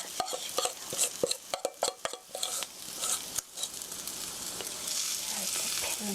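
Onion cake batter dropped into the center of a hot pan, opening with rapid spoon taps and scrapes, then settling into a steady, fairly loud sizzle of frying.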